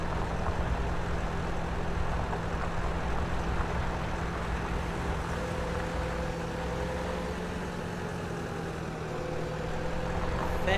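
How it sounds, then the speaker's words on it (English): A Fendt 300 tractor in Farming Simulator 17 runs with a steady, droning engine hum at constant pitch for about ten seconds, fairly loud and unbroken, with no talk. "This is the Fent 300. This is a nice little tractor."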